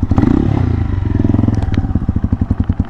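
A motorcycle crawls along a trail near Porac, Pampanga, with its rear disc brake dragging and overheated; a close, rhythmic engine chug comes with scraping clatter and evenly spaced pulses.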